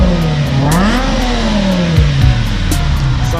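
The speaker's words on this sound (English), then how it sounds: "Give it some rev, bro." A car with an Eisenmann 2.5 inch straight pipe exhaust revs hard, its loud raspy engine tone rising and falling through several close throttle blips with a deep rumble underneath.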